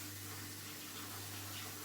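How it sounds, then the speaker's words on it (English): Cooking water is poured off from a pot into a sink, a steady, soft rushing that lasts about two seconds over a low background hum. "we have to throw off the water"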